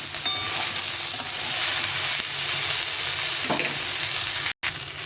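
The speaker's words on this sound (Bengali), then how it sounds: "এখন আমি পেঁয়াজ কলিগুলো দিয়ে দিই, দিয়ে আবার একটু ভেজে নেব।" Winter vegetables with spring onion greens fry in a pan, a loud steady sizzle with occasional stirring scrapes throughout.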